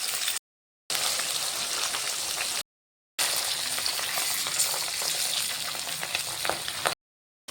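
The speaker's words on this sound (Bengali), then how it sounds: "আমি মাছগুলোকে ভাজতে দিয়ে দিলাম" Turmeric-coated pabda fish fry in hot oil, a dense, continuous bubbling sizzle that fills the pan with close, even crackle, broken by short gaps.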